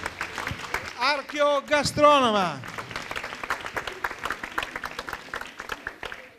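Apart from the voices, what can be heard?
audience applause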